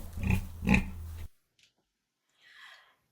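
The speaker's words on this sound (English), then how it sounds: "Oink oink went the little pink pig." A pig on a farm gives a couple of short, close oinks, then falls quiet before a faint snorting grunt at the end.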